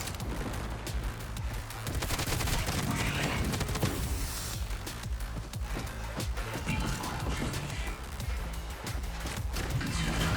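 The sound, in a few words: gunfire from a first-person shooter video game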